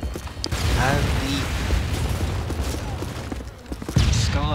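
Submachine gun fire from a foldable FM9-style SMG in a Modern Warfare 3 match on PC, sustained rattling bursts with mechanical clatter and scattered booms, heard close and fairly loud throughout.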